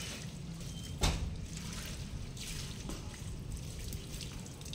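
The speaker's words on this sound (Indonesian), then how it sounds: "maka langkah selanjutnya adalah kita siram full sampai benar-benar netes" Water trickles and drips through a freshly repotted bonsai pot after a full watering, a faint, steady wet patter with one sharper drip near the start.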